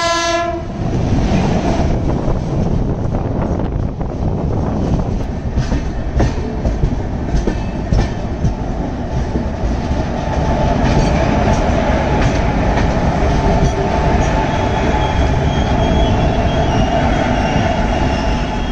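Palace Queen Humsafar Express train running on rails, heard from on board as a loud, continuous rumble with rhythmic clickety-clack; a horn sounds at the very start.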